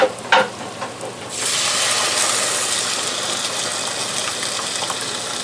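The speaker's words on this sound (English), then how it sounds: "time to add a little bit of our sauce over to the onions and the peppers" Sauce poured into a pan of frying onions and peppers; a couple of clanks, then a loud steady sizzle surges and holds, close by with no talking.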